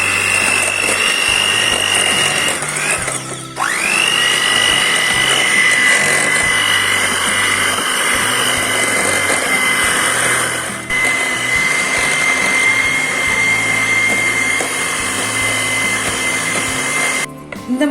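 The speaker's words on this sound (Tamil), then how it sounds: "எலக்ட்ரிக் பீட்டர் வச்சு நல்லா அது வந்து ஸ்டிக்கியா வர வரையும் நம்ம அதை வந்து நல்லா அடிச்சுக்கலாம்." An electric beater whips sticky coconut cookie batter in a bowl, a loud steady motor whine held almost continuously, with brief dips as the beater is lifted or shifted.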